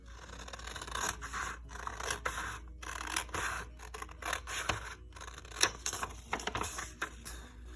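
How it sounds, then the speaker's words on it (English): Scissors snip through paper squares while cutting along straight lines for origami, producing a quick series of crisp close snips and rustling scrapes in irregular rhythm, with no talking. "I'm gonna take my scissors. I'm gonna cut along the straight lines."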